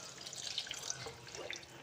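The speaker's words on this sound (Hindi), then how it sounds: "थोड़ा सा वाटर ऐड कर देंगे। पानी डाल दो बेटा।" Water trickles and splashes briefly while being poured into a cooking pan with ketchup and chili garlic sauce for chicken Manchurian, soft and close with no voices.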